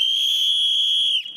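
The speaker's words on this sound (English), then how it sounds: "Where are these freaking whistles coming from?" A single loud, shrill whistle blast rings out at the UFC 280 weigh-in show, holding a steady piercing tone for just over a second before it wavers and cuts off.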